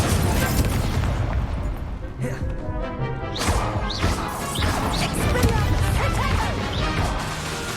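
Incendio fire spell cast again and again in Hogwarts Legacy, loud bursting crashes and whooshes packed closely together, mixed with other combat impacts and a voice speaking over them.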